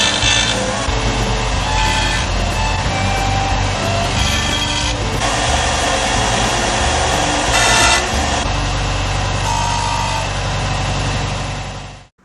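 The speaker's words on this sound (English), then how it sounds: "Time to take it over to the bench sander and put some facets on" A bench sander grinds facets onto a Grade 702 zirconium ring, a loud continuous motor roar with rasping bursts where the metal is pressed against the belt, running for about twelve seconds before cutting off.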